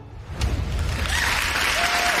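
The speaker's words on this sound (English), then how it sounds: "A round of applause means we are ready to go" Applause from a crowd builds quickly and holds as a dense, steady wash of clapping, loud and close, with faint background tones.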